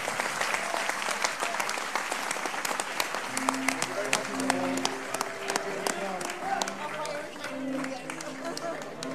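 A crowd at a Europe Together event on corporate tax applauds steadily throughout, with dense clapping, some sharper individual claps and a low murmur of chatter and voices underneath.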